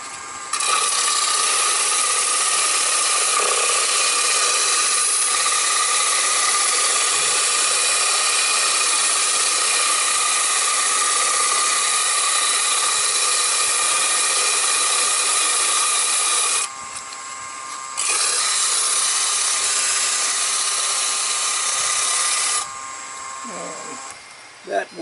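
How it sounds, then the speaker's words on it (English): Steady abrasive scraping of a sanding paddle with 60 and 100 grit sides on wood, loud and continuous with a couple of brief pauses near the end. "So this is my sanding paddle."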